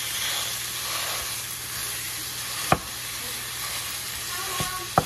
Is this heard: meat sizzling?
yes